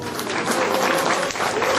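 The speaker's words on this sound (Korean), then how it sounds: "여러분들 박수 한번 부탁드립니다" Applause from the audience at a charity volunteer concert in Ansan, a dense, continuous wash of clapping heard close and loud throughout.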